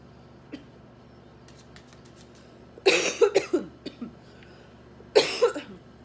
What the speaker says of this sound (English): I have this really irritating cough today.